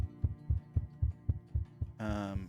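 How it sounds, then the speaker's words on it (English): Heartbeat thrumming effect during a TTRPG session: eight or so regular low, soft thumps about every half second, followed by a sustained brighter droning hum that swells near the end. "you hear a heartbeat sort of thrumming"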